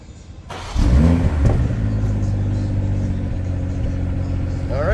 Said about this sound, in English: Alright, so that's what it sounds like if we remote engine start.